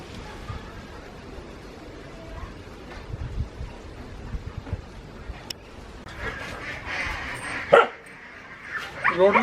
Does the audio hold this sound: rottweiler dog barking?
yes